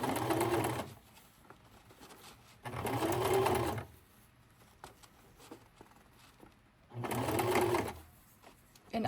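A sewing machine stitching folded paper pleats for a junk journal runs in three bursts of fast, humming mechanical stitching. Quiet pauses separate the bursts, and soft handling noises fall in between, close by.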